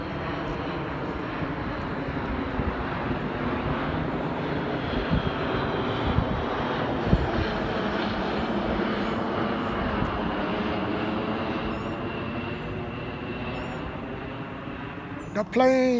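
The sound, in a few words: airplane flying overhead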